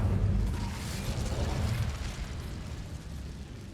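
Incendio fire spell cast in Hogwarts Legacy, a loud roaring whoosh of flame that bursts at the start and slowly fades over a few seconds.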